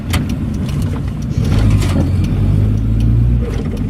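Interior engine and road noise of a Triumph Acclaim L driven slowly around town, a steady mid-pitched engine drone that swells briefly under light acceleration, with faint clicks and rattles, close and continuous.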